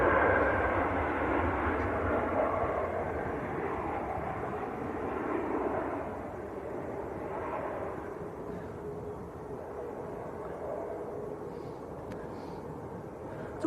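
A Ryanair airliner arriving from Milan at Manchester Airport fills the scene with a continuous broad jet roar, steady and fairly close, easing slightly in the later seconds.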